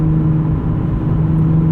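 Engine of a 2020 Nissan 370Z NISMO sports car heard from inside, a steady low droning rumble with an even hum, holding constant and fairly loud with no voices.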